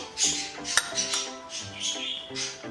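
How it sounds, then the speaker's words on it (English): Lemon blueberry bread batter of flour and half-and-half cream gets stirred in a bowl, with soft scraping and light clinks of a utensil against the bowl in a quiet, close, irregular rhythm. "And give it another mix just to incorporate."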